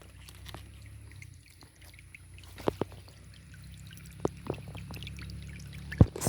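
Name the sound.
spring water flowing from under tree roots, River Ethiope source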